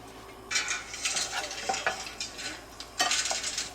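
Almonds toasting in a pan over medium heat, making a steady frying hiss broken by repeated scraping, stirring bursts and light utensil clatter, close and moderately loud, with no talking.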